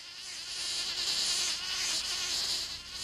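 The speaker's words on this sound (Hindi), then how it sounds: "देखो, वो मधुमक्खी शहद इकट्ठा करने गई है।" A bee's insect buzz drones steadily close by, holding a continuous whine without pause and with no talking over it.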